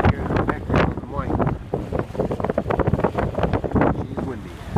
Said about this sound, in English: She's blowing down here today though, you might be able to hear it in the background of the mic